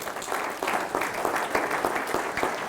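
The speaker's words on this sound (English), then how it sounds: "would you give Ed Metzen a round of applause" An audience at a personal finance symposium applauds, with a dense continuous patter of many hands clapping at moderate loudness throughout.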